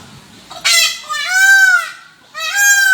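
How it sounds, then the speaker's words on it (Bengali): A peacock in a garden gives loud, close, nasal honking calls: one short burst, then a drawn-out wailing cry, and after a brief gap another long call. "দেখেন ময়ূরের ডাক, ময়ূর ডাকতেছে।"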